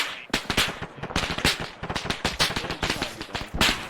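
Rapid bursts of rifle and machine-gun fire in the military shooter Arma 3, a dense series of sharp, close, loud shots rattling almost continuously throughout.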